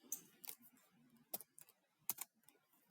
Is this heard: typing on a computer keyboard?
yes